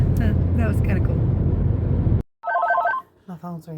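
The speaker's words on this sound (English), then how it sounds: "My phone's ringing." A mobile phone rings with a short electronic melodic tone after a stretch of loud low rumble, and a person talks briefly during the ringing.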